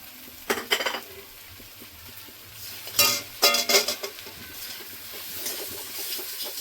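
A suji and potato mixture with ground turmeric, chilli, cumin and coriander fries in a pan, with clattering spatula strokes in two short bursts over a low steady sizzle, close and clear with no talking.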